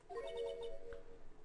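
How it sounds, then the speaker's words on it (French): A short melodic mobile phone ringtone in the video game Phoenix Wright Ace Attorney, a quiet sequence of bright electronic notes lasting about a second, heard alone. "Je connais la musique de votre sonnerie de portable"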